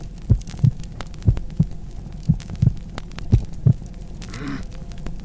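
Heartbeat sound effect with steady paired thumps repeating about once per second, deep and prominent over a low hum, no voices.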